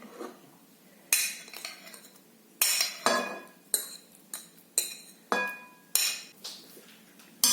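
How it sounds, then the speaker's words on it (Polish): Knife slicing beetroot into half-slices on a board for a herring salad, a series of sharp close taps and knocks at an uneven rhythm, with no talk. "Buraczki będziemy kroić takie półplasty"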